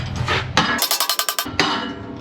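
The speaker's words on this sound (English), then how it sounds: "When you hammer it, hammer it on the sides, it actually flattens it out" About seven quick metallic hammer strikes on the sides of a metal pipe clamp ring out in an even rhythm in a vehicle repair shop, close and clear, between bursts of scraping noise.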